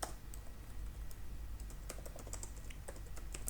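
Code being typed on a computer keyboard for a Laravel tutorial, a steady run of soft, close key clicks over a low background hum.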